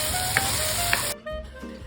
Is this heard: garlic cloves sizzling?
yes